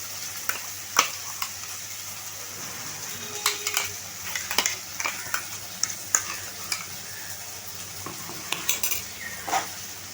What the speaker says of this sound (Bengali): এবার আমি যে মশলাটা বেটে রেখেছিলাম ওটা দিয়ে দিলাম